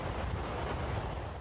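Ocean waves and wind roar steadily at a surf beach on Lanzarote, a dense, continuous wash of surf with constant wind noise buffeting the microphone and no voices.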